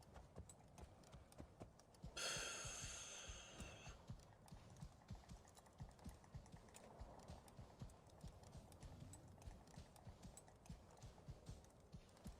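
Horse hooves clip-clop at a steady walking rhythm while riding horseback in a video game, soft and continuous with low thumping, a brief hissy burst early on, and no talk.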